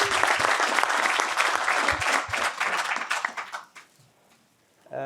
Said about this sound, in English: Round of applause for Femke and organizing this jazz.